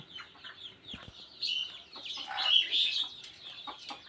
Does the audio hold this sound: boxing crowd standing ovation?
no